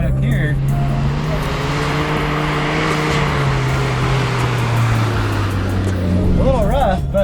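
A Suzuki Jimny JA11 engine drones steadily as the 4x4 rolls off-road over small bumps, loud and close, with pitch rising and falling gently and rattling jolts underneath.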